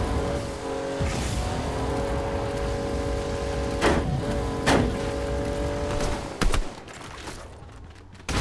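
Car engine in the Fortnite video game, a steady droning motor tone with some sharp cracks and bangs from gunfire over it, loud and close.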